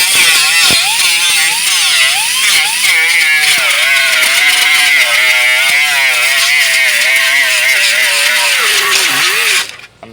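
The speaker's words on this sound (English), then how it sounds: "when you get the pin off, you could grind it back quickly" An angle grinder grinds back a dent-pulling pin on a car body panel, a loud continuous high whine with wavering pitch as the disc bites metal, close up, ending abruptly.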